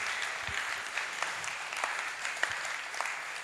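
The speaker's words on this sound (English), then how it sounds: "I want us to please give the DG a round of applause" A crowd at an international pharmacists' conference gives the DG a round of applause: steady, full-room clapping with a few sharper individual claps standing out throughout.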